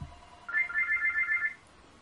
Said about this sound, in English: It's good that the phone is ringing, dear friends.